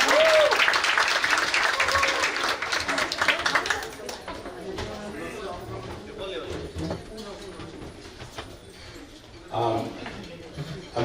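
Applause rings out at a Diwali celebration, dense clapping mixed with cheers and a rising whoop for about four seconds, then thinning to scattered claps under crowd chatter, with a brief swell near the end.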